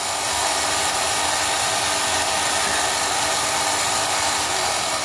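Steady, loud motor whine from a 3D printed radio control 1/144 scale Imperial Japanese Navy destroyer Akizuki model, droning continuously and close with no break, somewhat like a small gas-powered engine.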